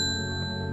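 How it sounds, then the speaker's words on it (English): A single clear bell chime rings in the puzzle game Strange Horticulture, holding a long, bright sustained tone that decays slowly, with no talk over it. "I'm gonna ring the bell."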